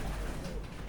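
Pigeons in a crowded loft coo softly and steadily, a low murmuring flutter of many birds close by, with no talk over them.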